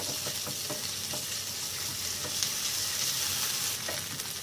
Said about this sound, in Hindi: और 1 टीस्पून रेड चिली पेस्ट डालेंगे। इसे थोड़ा सौते कर लेंगे।